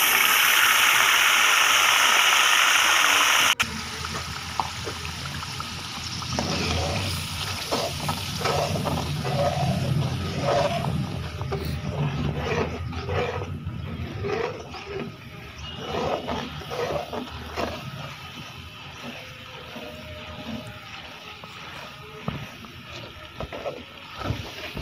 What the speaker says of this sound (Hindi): उसके बाद इसमें पेस्ट डाल देंगे